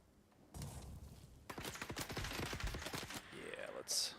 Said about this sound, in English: I could have sworn somebody else was shooting.